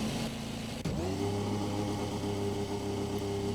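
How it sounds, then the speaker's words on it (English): In the iRacing simulator, a Mercedes W12 Formula 1 car's engine fires with a brief click, then settles into a steady, low, humming idle, heard quietly and without talk. "We need to get this engine started."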